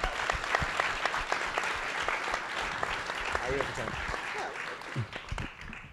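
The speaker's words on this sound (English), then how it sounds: "So give those two comrades a big hand of applause" Audience applause at a live podcast taping, with steady broad clapping from a crowd that carries on for several seconds and tapers near the end, while a voice speaks briefly over it.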